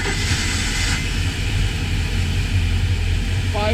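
A freshwater-cooled Volvo Penta 5.0 boat engine runs in the open engine compartment of a 2003 Chaparral Signature 300, giving a steady, loud, low droning rumble throughout with a faint voice over it.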